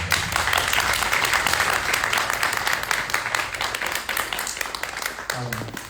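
Audience applause after closing remarks at a coffee talk organised by a German consulate: dense, steady clapping fills nearly six seconds at strong level, easing slightly toward the end, with a brief voice near the close.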